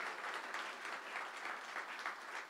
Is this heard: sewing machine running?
no